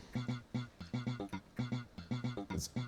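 A sampler loop driven by an arpeggiator with a modulated playhead, for a G Mixolydian groove: short, choppy repeating tonal bursts in a quick steady rhythm, fairly quiet and alone.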